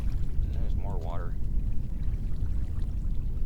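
Water flows with a constant, low rushing wash in a video game, with a brief spoken voice over it early on before the flow carries on alone.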